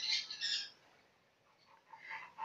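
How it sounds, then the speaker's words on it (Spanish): Wild chachalacas call from trees at dawn, a harsh squawking burst at the start and a softer, scattered round of calls near the end, moderately close with no talking. "ese canto de unas aves que parecen como unas gallinas. Son aves silvestres, las llaman chachalacas."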